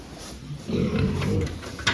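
A pig in a pen on a fattening farm gives low grunting oinks over steady background noise, with a louder burst near the end.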